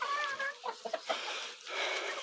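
Chickens and a rooster cluck softly at close range while pecking at fresh greens, with short scattered calls and rustling over a steady background.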